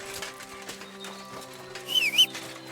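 Rhythmic clip-clop of horse hooves in the video game Kingdom Come: Deliverance 2, with a steady electronic hum underneath, then a short whistling rise near the end.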